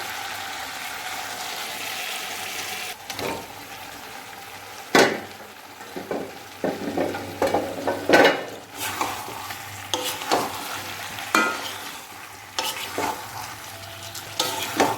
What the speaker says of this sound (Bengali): এই আলু দিয়ে কিছুক্ষণ কষে নেবো একটু, তারপর জল দিয়ে দেবো।